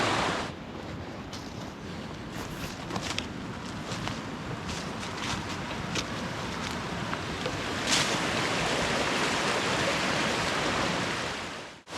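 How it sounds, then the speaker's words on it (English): A waterfall in a creek after a storm gives a continuous broadband rush of falling water, close and steady, with no voices. "Got a beautiful waterfall, perfect spot to sit right next to it."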